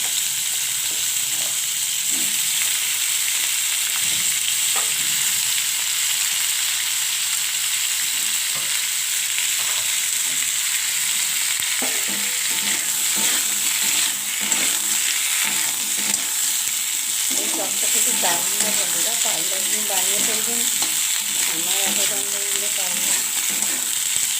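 Vegetables (ol kopi and radish) frying and being stirred with spices in a pan, a steady close sizzle with scraping stir strokes throughout, no talking.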